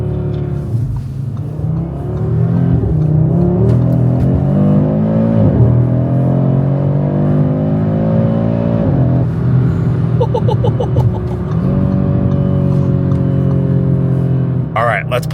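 Audi RS3 five-cylinder engine held in second gear, pulling with a loud, close, steady rising growl across several climbs in pitch, while a person talks over it from the cabin.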